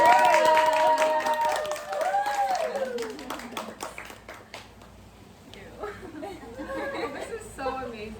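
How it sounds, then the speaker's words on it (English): An audience at a book reading welcomes an author with clapping and scattered chatter and chuckles, loudest at the start under a speaking voice, then thinning out as talk continues over the fading applause. "we can give a warm welcome and a lovely applause to Mudra"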